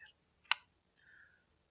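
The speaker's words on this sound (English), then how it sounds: "And then we finish it by clicking this finish button." A single sharp mouse click on a software button, quiet and close, with a faint brief tone before and after in an otherwise hushed room.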